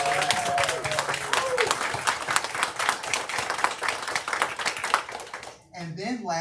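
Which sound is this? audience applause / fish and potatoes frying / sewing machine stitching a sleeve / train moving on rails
audience applause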